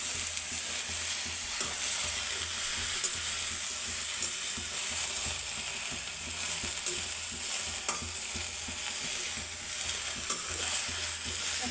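Peas roast in a pan with a steady, close hiss and crackle, while repeated scraping and stirring strokes keep a busy, even texture going throughout, with no talking.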